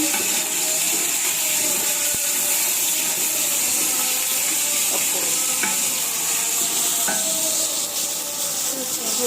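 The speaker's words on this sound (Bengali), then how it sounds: "আদা রসুনটা একটু ভালো করে কষিয়ে নিই তেলে তেলে ভেজে নেই" Ginger-garlic paste fries in hot oil in a pan with a loud, continuous close sizzle. Occasional utensil scrapes and taps are heard while it is stirred.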